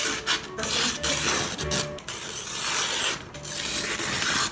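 A Shun Santoku 7-inch kitchen knife slices through paper with rough, rasping scraping strokes, close and fairly loud, in several uneven passes with short breaks between them.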